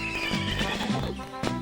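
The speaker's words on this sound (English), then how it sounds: "untie your horse?" A horse whinnies close up in a rising, shaky neigh, with a brief snort or clop near the end, loud and alone without speech.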